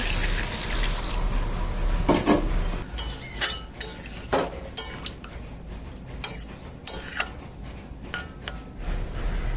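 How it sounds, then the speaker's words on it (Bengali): Water poured into a pan of cooked spices for a vegetarian taro (kochu) dish, a splashing pour followed by clinking of utensils and pan knocks at close range, with no talk. "আর এখন আমি জল ঢেলে দিচ্ছি।"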